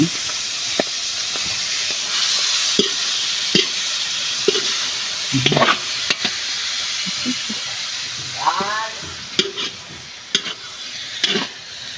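Ground pork giniling hisses and sizzles in a hot frying pan, a steady frying hiss broken by scraping stirs and clacks of a spatula, close up with little talk.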